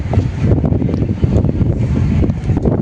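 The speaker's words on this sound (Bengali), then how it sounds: "বিচ সাইডে প্রচণ্ড হাওয়া" Strong gusting wind roars across the microphone at Redcliff beach after a cyclone, a loud continuous buffeting with no break.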